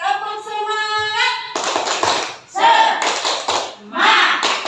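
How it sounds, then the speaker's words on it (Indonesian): A group of adults in an Indonesian training session performs a patterned 'tepuk semangat' cheer clap, bursts of rhythmic claps broken by short gaps and chanted voices, fairly close and loud. "Tepuk semangat."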